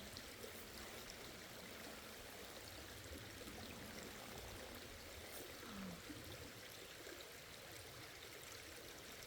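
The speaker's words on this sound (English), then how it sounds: "fresh cold water from the creek" A forest creek flows beside a backpacking campsite in Pennsylvania, a steady, soft rushing and trickling that continues without a break and without voices.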